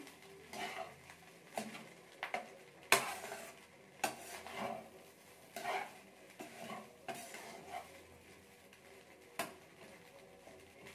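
Egg rice with chicken masala being stirred in a pan: repeated spoon-on-pan scrapes and clinks in an irregular rhythm over a soft sizzle, close and fairly quiet, with no talking.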